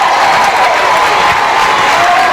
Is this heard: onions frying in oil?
no